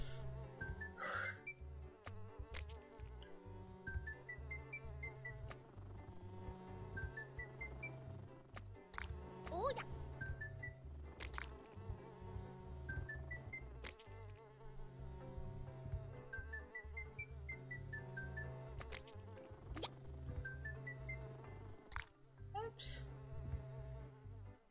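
Flies buzz in a video game, a continuous insect drone under repeating game music with chiming melodic figures, and a voice talks at times.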